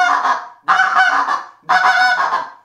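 Three loud, close honks from a Hammer greylag goose call, each a nasal, reedy blast with short gaps between, heard alone.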